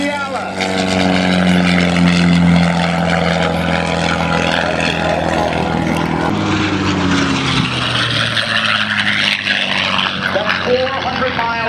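A P-51 Mustang roars past in a fast fly-by at the 2014 Houston Air Show. Its loud propeller and engine growl sweeps downward in pitch as it passes, then trails off into a broad rushing fade.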